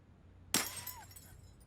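Plastic glass cut with a plastic diamond in the Leisure Suit Larry video game, a single sudden sharp cracking burst after near silence, followed by a brief whistling ring that fades.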